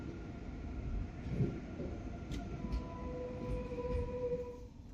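A Swiss ICN tilting express train arriving at a station rumbles steadily with low mechanical noise and a faint high squeal, continuous and fairly close, no voices.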